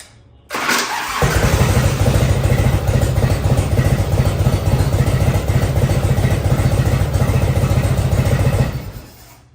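A barn-find Harley motorcycle that had sat for ten years fires up after a brief crank, then settles into a loud, steady, close-range running rumble with a constant clattering pulse that drops away at the end.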